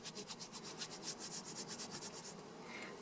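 Felted yarn join being rubbed by hand to smooth a lump, a quiet rapid rhythmic scratchy rubbing of about twenty strokes that stops near the end, with no talk.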